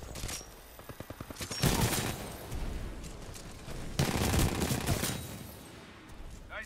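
Pistol fire from an RE-45 in Titanfall 2: a quick string of sharp shots early on, then heavier, dense bursts of gunfire and blasts that fill most of the clip, loud and close.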